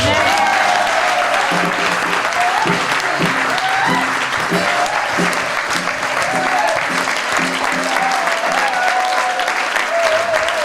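Sustained applause from a church congregation fills the room, dense and loud throughout, with voices and some singing or calling audible underneath the clapping.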